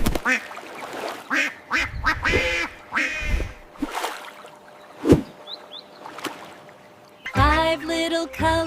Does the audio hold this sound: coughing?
no